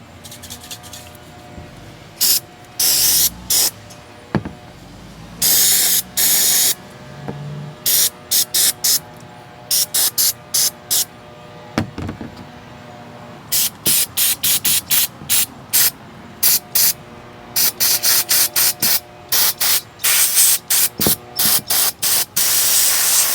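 Carb cleaner sprayed onto small carburetor parts from a Champion dual fuel 3500 watt generator, a series of sharp aerosol hissing bursts, some short and some longer, close to the microphone with quiet gaps between and no talk.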